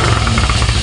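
A project motorcycle's engine idles loudly just after an oil change. It runs with a steady, rattly, knocking chug, close by and alone. The engine is blowing white smoke, with worn piston rings or valve seals suspected.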